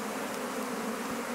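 Honey bees buzz inside an opened hive on Ometepe Island, Nicaragua: a dense, steady, close drone that holds evenly throughout with no voices.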